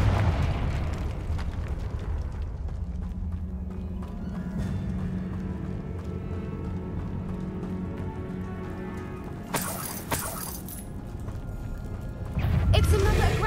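A Confringo fire spell goes off in Hogwarts Legacy over a steady, rain-like background hiss. Two sharp, crackling bursts land a few seconds apart, and the second one ends in a heavier low rumble.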